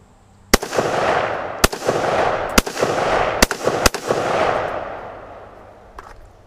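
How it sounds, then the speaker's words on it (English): An AR-15 rifle fires five sharp, loud rounds outdoors at uneven intervals, each crack followed by a long rolling echo that fades slowly; no one speaks. "I'm gonna fire a few rounds."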